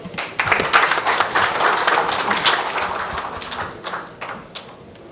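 An audience at a conference session on state biofuel policies claps for the speakers, a close, dense round of applause that swells and then tapers off over several seconds.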